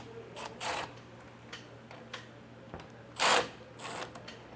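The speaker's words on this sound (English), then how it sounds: "Now we can take that same 11mm socket and get our springs loosened up." Ratcheting 11mm socket driver loosening spring hardware on an enclosed trailer's ramp door, short whirring bursts separated by quiet pauses, close and fairly faint.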